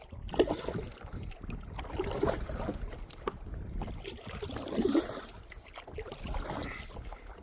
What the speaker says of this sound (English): Alright, we're paddling again.